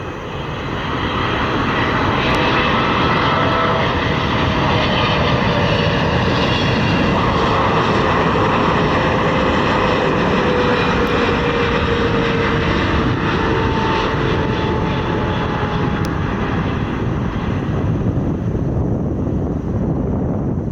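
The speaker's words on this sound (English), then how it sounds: "Swiss Air Flight 8 inbound from Zurich." A Swiss Air airliner on Flight 8 from Zurich arrives at Chicago O'Hare with a loud, sustained jet engine roar and a slowly shifting whine, heard alone over wind buffeting the microphone.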